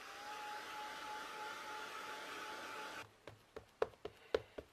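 A hair dryer drying paint on a plaque blows with a steady, close whoosh for about three seconds, then cuts off, leaving a few sharp clicks and taps.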